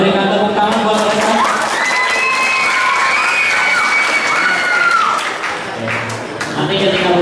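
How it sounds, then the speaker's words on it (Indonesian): An audience at an Islamic junior high school event in Jakarta breaks into sustained applause, dense clapping mixed with cheering and shouting voices, loud and continuous, with talk running underneath. "Boleh berikan tepuk tangan buat mereka."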